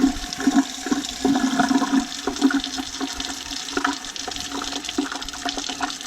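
Water gushes from an open sink tap as a house's plumbing is drained with the main valve shut, a continuous close rushing and splashing flow.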